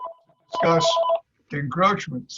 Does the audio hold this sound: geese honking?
no